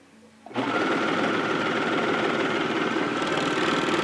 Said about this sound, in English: I'm going to pull the white rib knit or whatever color rib knit you might use as I sew.